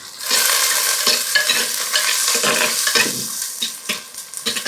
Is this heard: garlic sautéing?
yes